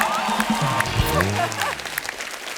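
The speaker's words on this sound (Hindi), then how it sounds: "वेलकम वेलकम वेलकम, जोरदार तालियां" A studio audience claps for arriving guests on a comedy talk show, steady applause running under a host's voice.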